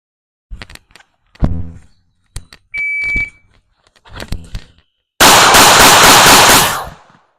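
A S&W Bodyguard 2.0 .380 pocket pistol fires several rapid bill-drill strings at a range. The loud, close shots come in quick bursts, a shot timer beeps once, and a final dense volley ends the sequence.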